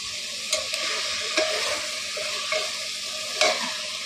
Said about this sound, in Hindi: और अब फ्रेंड्स मैं अपना मटर भी ऐड कर देती हूँ। ये गया मेरा मटर।